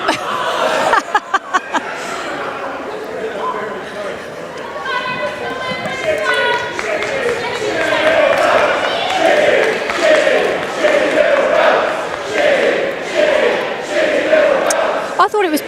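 Wrestling crowd at a women's show, Kris Statlander vs Nina Samuels, chanting in loud rhythmic unison that rises and sustains, with scattered yells and a few sharp claps early on.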